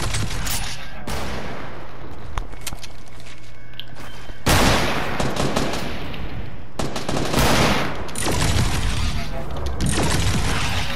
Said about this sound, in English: That was a trick shot. No scope.